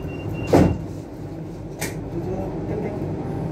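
Hong Kong Light Rail 615P train, a fifth-generation car set, closing its doors with a brief loud thud, then a steady low rumble of the train starting to move, with onboard announcements underneath.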